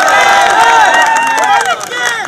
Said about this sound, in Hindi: आज इसलिए इतनी सारी भीड़ इकट्ठा हुई है उनके प्यार के लिए